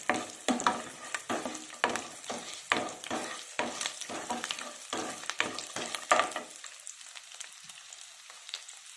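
Garlic and small pieces of ginger fry in a pan for a soya chunks curry, with a steady sizzle broken by repeated stirring scrapes that fade toward the end.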